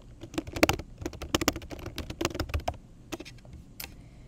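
Brisk typing on a computer keyboard, a quick irregular run of crisp key clicks close by with brief pauses, no voices.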